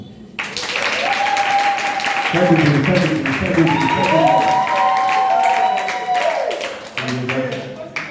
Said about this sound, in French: Je demande qu'on applaudisse encore.